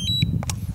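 A DJI Mini 2 drone powering on gives short, close electronic beeps: a steady tone, then a brief higher chirp and a couple of quick bleeps over a low rumbling background.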